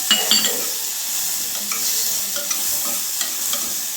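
Tomato and curry leaves fry in a pan for a thin sambar, giving a steady close sizzle broken by light scraping and clicking from stirring, with no voices.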